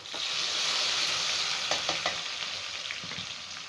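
Onion dropped into smoking-hot palm oil for a palm oil stew, giving a bright, loud sizzle that slowly settles, with a few light stirring taps.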